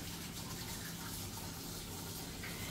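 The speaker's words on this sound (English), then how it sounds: "I'm just going to do another quick rinse before the next step here" Tap water runs in a steady, even gush as something gets a quick rinse, constant and moderately close with no voices.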